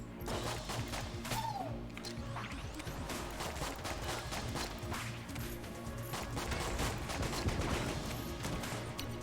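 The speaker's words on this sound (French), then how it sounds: "on a renvoyé les explosions de la dynamite sur le gros mob" Dynamite explodes in rapid clusters during video game play, a dense continuous rattle of blasts and crashes over steady game noise, loud and without talk.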